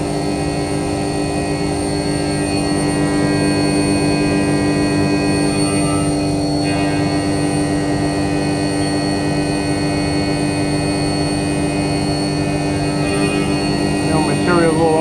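A CNC mill cuts slightly oversized stock with a fresh cutter, giving a loud, steady machining drone with a high whine that runs unbroken and close throughout.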